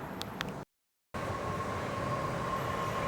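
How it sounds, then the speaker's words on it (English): A train arriving at a station in Southeast Asia rumbles steadily with a low roar and a faint high whine, continuing loudly after a brief moment of silence. "I think that's the train one stop away."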